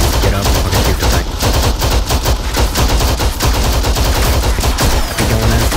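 Dense, loud gunfire rattles in the military shooter game Arma 3, a rapid, unbroken stream of automatic bursts and overlapping shots that stays close and constant throughout, with no voices.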